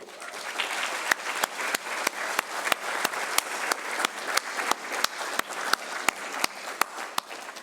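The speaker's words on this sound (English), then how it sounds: "Give them one more round of applause." Audience at a 2021 Elyria High School senior awards ceremony clapping steadily, a dense wash of applause with sharp individual claps punctuating it, moderately near and sustained.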